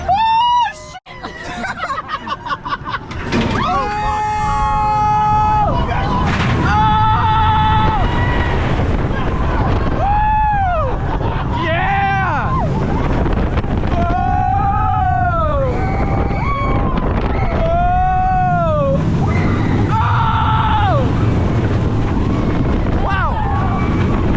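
Back-row ride down the drop of the Yukon Striker roller coaster at Canada's Wonderland, a steady roar of rushing wind buffeting the microphone, with riders screaming and whooping throughout.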